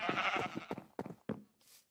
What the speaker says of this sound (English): We have our sheep hanging over the abyss of the valley, and they are loud.